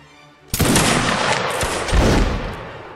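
A volley of rifle fire from a reenactment line firing on command: one sharp loud crack followed by a ragged rolling burst of shots and a second blast, close and dense, no talk.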